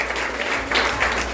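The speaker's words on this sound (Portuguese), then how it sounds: "aplaude ao Senhor nessa manhã e glorifica Ele" A church congregation at a Sunday celebration service claps to praise the Lord, a loud, continuous burst of applause filling the room.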